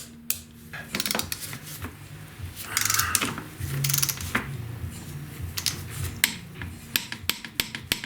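Torque wrench ratcheting and clicking while tightening the swing arm pivot on a BMW R1200GS motorcycle, a series of close sharp mechanical clicks and ratchet bursts, irregularly spaced over several seconds.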